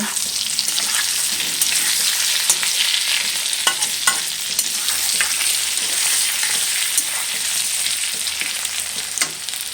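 Potatoes with turmeric and salt frying on high heat give a loud, steady hiss of hot oil, with frequent scraping and clinks of a stirring spoon against the pan, close throughout.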